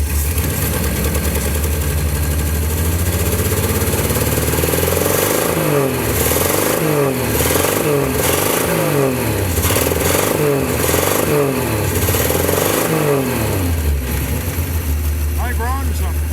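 A carbureted engine at a racing shop idles roughly, then revs up and down repeatedly in rising and falling sweeps before settling back to idle; loud and close, with a voice briefly near the end.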